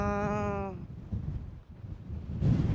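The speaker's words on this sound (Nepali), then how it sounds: "यस्तो मान्छे उडाउला जस्तो हावा छ।" Strong wind buffets the microphone in low, gusty rumbles on a hillside above Marpha, rising again near the end, after a brief tonal sound at the start.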